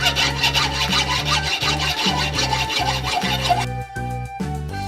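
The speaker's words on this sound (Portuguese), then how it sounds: "Agora eu vou serrar a barra que será a lâmina do nosso formão." A hand saw cuts a 16 cm iron bar clamped in a vise for a homemade chisel blade, with steady rhythmic rasping strokes, close and loud, about two strokes per second.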